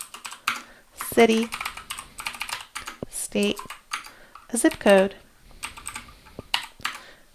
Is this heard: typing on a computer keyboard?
yes